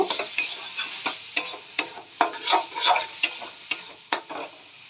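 Spice masala is stir-fried in a pan for a Bengali prawn-paste pointed-gourd dish, the spatula scraping in quick repeated strokes over a soft sizzle, close and with no voices.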